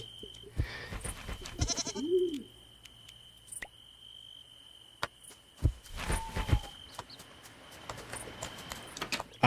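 A lamb bleats once in the farming game Moonlight Peaks, a short wavering call near two seconds, set amid soft ambient game tones, chimes and scattered small clicks and footsteps, no talk.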